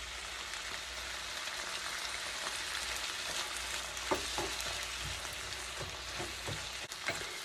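Kielbasa and ground beef fry in a pan with a steady, dense sizzle and crackle, punctuated by a few sharp clicks and scrapes of stirring, close up with no voices.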